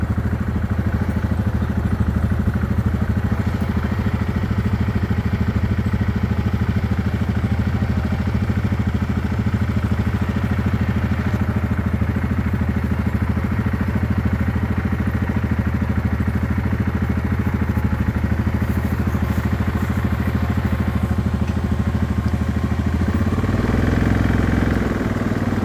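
A road grader plowing snow along a 22-mile mountain road up to a cabin rumbles steadily and loudly for the whole stretch, its heavy diesel drone joined by a low clatter, with no one speaking.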